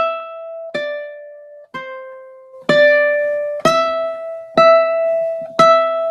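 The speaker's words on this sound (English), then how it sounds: "That's a very dramatic version of Mary Had a Little Lamb." Slow, dramatic fingerpicked ukulele rendition of "Mary Had a Little Lamb," seven ringing plucked notes spaced about a second apart, some soft and some struck harder, close and clear with no voices.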